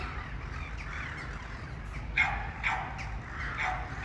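Dog barking somewhere off in the distance, a few faint sharp barks in the second half over a soft background hum, heard in a wooded area where squirrels are being fed.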